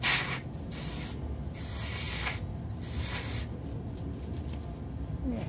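Carburetor cleaner sprayed into the bowl of a Predator small engine carburetor to blow out sand, a steady close hissing spray with a few short bursts and no talk.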